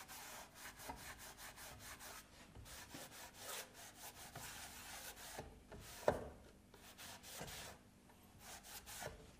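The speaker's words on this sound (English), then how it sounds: "Wipe your glue off." A slightly damp rag wipes glue off a wooden lazy Susan, producing rapid rhythmic rubbing strokes, close and fairly quiet, in repeated bursts with a few brief pauses.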